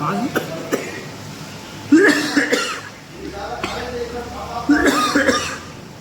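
A person coughs several times in rough bursts, with throat-clearing sounds and a few words spoken between the coughs.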